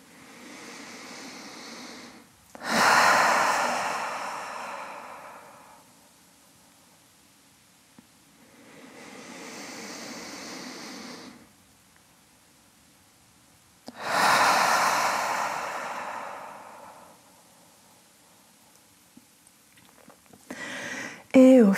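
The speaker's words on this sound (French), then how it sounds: "prendre quelques grandes inspirations par le nez et grandes expirations par le nez ou la bouche" Slow, deep yoga breaths drawn in and let out through the nose, each long airy inhale and exhale rising and fading in a calm, even rhythm, close and alone with no talk.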